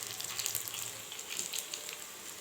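Chitti bajji fritters fry in hot oil, giving a soft, continuous crackling sizzle heard up close and fairly faint, with no talking.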